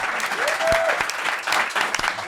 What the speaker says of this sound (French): Vraiment, on peut applaudir Dominique Paquet, Michel Grenier